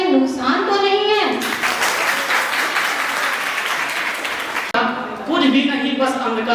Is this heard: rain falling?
no